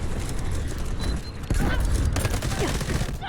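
Rapid gunfire bursts from the video game Delta Force rattle in the background while a player's voice talks excitedly over the action.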